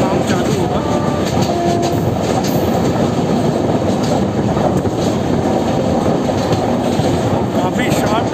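A goods train rolls past on a sharp curve of the Daund bypass chord line, with loud continuous wheel rumble, rhythmic clickety-clack and thin squealing from the wheels, steady and close throughout.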